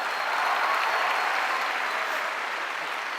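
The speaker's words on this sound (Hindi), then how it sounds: "जोरदार ताली इसके लिए।" An audience at a success testimony event claps in sustained, dense applause that stays steady and loud throughout, with no talking over it.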